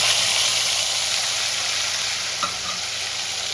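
Tomato paste sizzles loudly and steadily in hot oil, a close, even hiss with a faint clink partway through and no talking.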